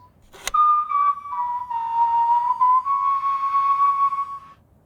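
Bone flute made from a vulture wing bone, of a 40,000-year-old type found in South German caves, plays a clear, breathy sustained melody after a sharp onset, close and alone without talk.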